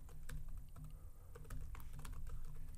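Fingers tap a computer keyboard to enter a location, giving quiet, uneven clicks close at hand. The keystrokes come in small clusters over a soft background hum.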